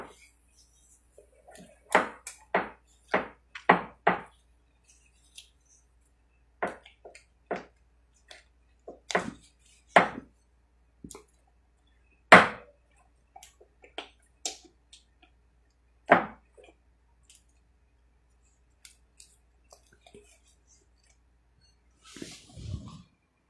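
Cold porcelain clay mixture being stirred and mixed, sparse soft tapping and scraping clicks in irregular bursts, close and quiet against near silence.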